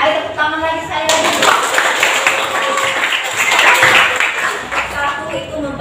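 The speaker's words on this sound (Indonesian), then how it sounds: "Ayo tepuk tangan lagi" Lively applause fills a history classroom as students clap for a group project, a dense, continuous patter of many hands, with voices mixed into the clapping.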